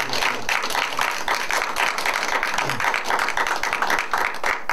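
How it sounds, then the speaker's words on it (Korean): A lecture hall audience at a policy forum gives sustained, dense applause, an even wash of many hands clapping at moderate distance, with no talking over it. "다시 한번 박수 한번"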